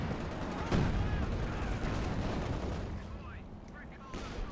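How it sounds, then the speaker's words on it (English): Bren gun bursts and artillery booms in Company of Heroes 2, a steady dense clatter of gunfire with heavier thumps, including a loud blast near the start and another near the end, running under continuous battle noise. "Never mind all the Bren gun fire here."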